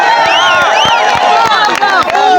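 A large outdoor crowd at a presidential affordable housing event cheers and shouts loudly for the governor, a dense wall of voices with whoops and rising calls continuing throughout.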